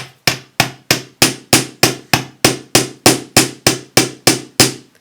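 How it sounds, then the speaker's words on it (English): A hammer striking metal wire on a metal block while making a pendant: a steady run of about fifteen sharp, ringing blows at an even pace, close and loud, each fading briefly before the next. "When you've hammered it a bit on one side, turn it over and hammer it on the other."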